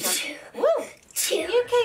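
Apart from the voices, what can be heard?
sneeze from hay fever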